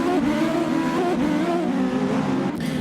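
A race car in a racing video game drones loudly and continuously on its warm-up lap, its engine pitch shifting slightly as it holds speed. No one talks.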